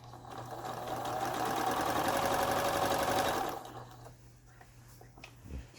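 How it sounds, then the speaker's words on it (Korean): A repaired Juki HZL-K85 sewing machine runs a test seam, its steady mechanical needle chatter continuing for about three and a half seconds before stopping, leaving a quiet room with a faint knock at the end. "울산으로 보내지는 쭈끼 미싱 HZRK85라는 기계 시험 바느질을 하는 영상이었습니다"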